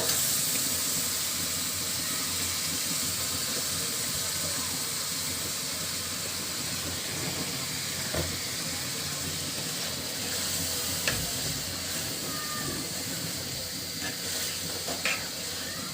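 Chicken pieces fry in a pot with spices, giving a steady, loud hissing sizzle throughout with a few faint clicks and no talking.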